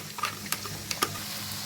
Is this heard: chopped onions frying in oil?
yes